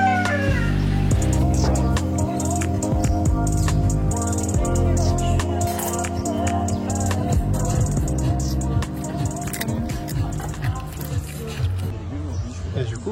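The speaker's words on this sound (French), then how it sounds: "C'est un chat." A domestic cat meows near a riverbank, its cries rising over a dense, steady mix of music and voices that runs throughout.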